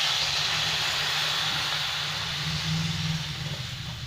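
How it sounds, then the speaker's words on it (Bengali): Hot water goes into a sizzling pan of Bengali fish curry with potato and cauliflower, giving a steady, loud hissing rush with a low rumble underneath that eases slightly toward the end. "এবার আমি গরম জলটা দিয়ে দিই।"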